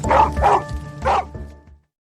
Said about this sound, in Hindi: सूरज को दूरबीन में एक डॉग नजर आता है जो भौंक रहा है।